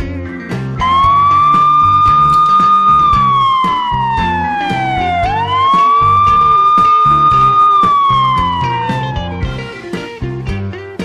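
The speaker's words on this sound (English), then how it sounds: "Police car." A toy police siren wails loudly, rising and falling in long sweeps over a bouncy musical beat.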